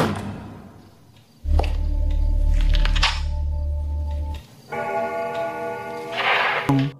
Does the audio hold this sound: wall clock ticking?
yes